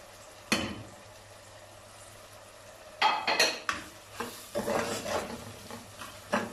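Okra with green chillies, salt, chilli and turmeric stir-fried in a pan, with a faint steady sizzle broken by several clattering bursts of spatula scraping and stirring against the metal.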